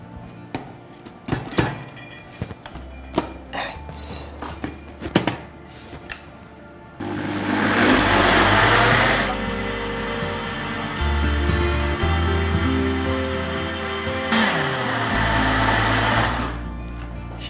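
A Bosch kitchen machine whips cream for coffee ice cream. A loud, steady motor whir starts after some knocks and clatter, shifts in pitch partway through, and keeps running to the end with no talk.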